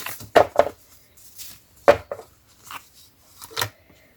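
A paper page being cut for scrapbooking, heard as a few crisp snips and slices in quick pairs with pauses between, close and fairly loud against quiet.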